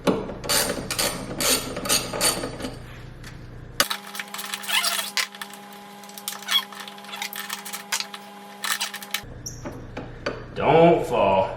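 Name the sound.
ratchet backing out two 10 millimeter bolts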